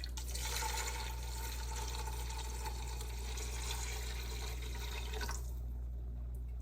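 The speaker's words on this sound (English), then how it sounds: "Then our chicken broth. And since this is a quart jar, I'm only going to pour half of it in" Chicken broth poured from a quart jar into a cooking pot for creamy white chicken chili makes a steady, quiet splashing gurgle for several seconds before stopping abruptly.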